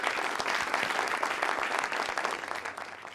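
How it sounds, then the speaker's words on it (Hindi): Steady applause from an audience at a film-industry talk event, with dense clapping filling the room loudly and evenly throughout, no speech over it. "बहुत सी तालियां बजाइए"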